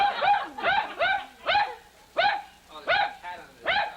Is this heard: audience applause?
no